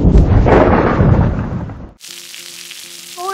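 A thunderclap in a Brazilian cartoon about rain gives a loud, rumbling crash that fades after two seconds into quieter rain hiss and a short musical sting.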